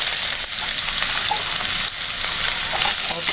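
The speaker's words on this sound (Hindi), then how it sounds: "ऑयल हमारा गर्म है तो इसके अंदर हम डाल देते हैं ये प्याज कटी हुई" Chopped onion fries in hot oil in a kadai, a loud, unbroken hiss and crackle at close range with slight dips in level, no voices over it.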